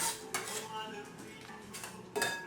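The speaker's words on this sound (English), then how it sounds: "So I'm going to go ahead and put my onion in here to the bowl." Chopped onion tipped into a bowl for tabouli salad, a few clinking and scraping knocks against the dish, close and moderately loud, with no talk.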